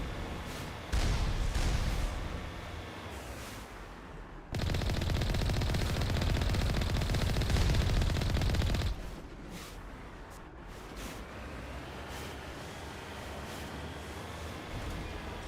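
Heavy rocket-launcher fire in Mass Effect blasts in two long, loud, roaring bursts, then fades into a lower rumbling background with scattered sharper hits.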